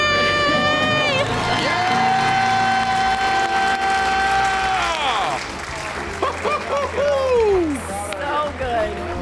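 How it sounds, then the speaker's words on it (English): A loud crowd at a podcast event screams and cheers with sustained shouting and applause, then voices continue with whoops over the noise. "Let's hear a debt-free scream!"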